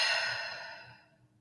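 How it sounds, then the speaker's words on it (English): A single long exhale, like a soft sigh, during a calm breathing exercise in a classroom lesson, fading away gradually with no talk. "Close your eyes. Breathe in, breathe out."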